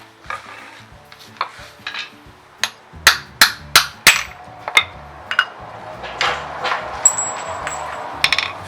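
Sharp metallic hammer strikes ring out on a 30 mm socket set against a tensioner pulley during an engine repair: scattered taps, then a quick run of loud hits near the middle, close and clanging, followed by lighter knocks, with no one talking.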